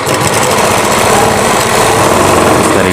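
A sewing machine runs loud and close, stitching a Rajputi suit with a fast, continuous motor whir that holds steady from start to finish.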